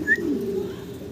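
A pair of pigeons offered at a pigeon market, giving a soft low coo close by, brief and continuous, with faint background noise.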